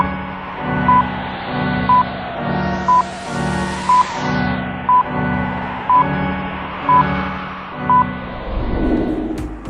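Melancholy game music from Final Fantasy 6's World of Ruin, a slow, sustained synthesized track with soft pulsing chords and a steady beat, played alone at moderate volume.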